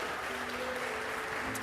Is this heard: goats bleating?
no